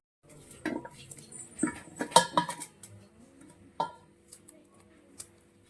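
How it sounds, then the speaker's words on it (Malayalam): A knife chops jackfruit on a board for puzhukku: a handful of sharp, irregular knocks and clinks close up with quiet pauses between them, and faint room noise underneath. "നമുക്കിതിനെ അരിഞ്ഞെടുക്കാം"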